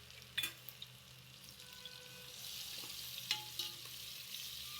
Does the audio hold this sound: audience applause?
no